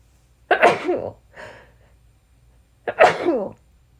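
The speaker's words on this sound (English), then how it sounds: "Excuse me, sneezing." Two loud sneezes about two seconds apart, with a short breathy sound between them, close up in a quiet room.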